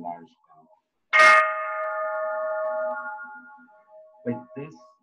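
A large temple bell in a Soto Zen temple struck once, a sharp clang ringing into a long sustained tone that slowly fades, with someone speaking briefly before and after.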